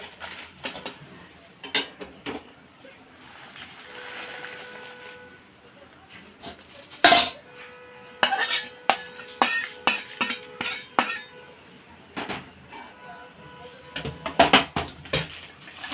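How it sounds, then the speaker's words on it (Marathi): Dried red chillies are roasted and stirred in a pan, producing sparse metallic scrapes and clinks of the utensil against the pan that come in irregular bursts, close and fairly quiet with stretches of near silence between. "ह्याही मिरच्या आपण थोडा वेळ परतून घेणार आहोत"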